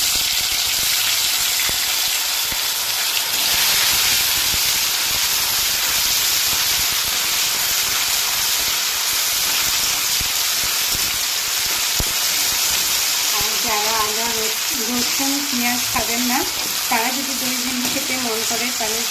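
Ginger garlic paste hits a hot pan and sizzles loudly, a continuous frying hiss that holds steady throughout, with a voice speaking over it near the end.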